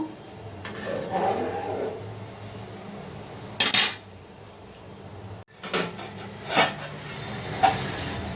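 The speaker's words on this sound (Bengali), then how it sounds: "হালকা হাতে আমি এটা নেড়ে দেবো।" A spoon scrapes and clanks against a metal pot as biryani is stirred gently. Sharp metallic knocks come in short separate bursts over a low background hum, and no one speaks.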